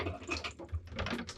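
Water drains out of a cabin's plumbing as the pipes are emptied for winter, a soft gurgling, splashing flow that sounds near and faint.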